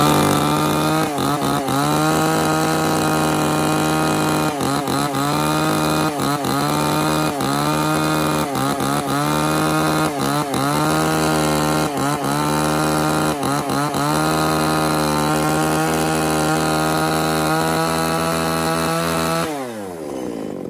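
A used Japanese chainsaw engine runs loudly and close, its buzzing drone revving up and down repeatedly, then cuts off abruptly at the end.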